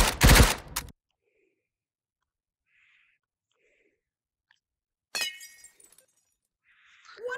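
Full-auto gunfire in the VR shooter H3VR: a loud, dense rattling burst opens, then near silence, then a shorter sharp burst with ringing, and a final burst at the end.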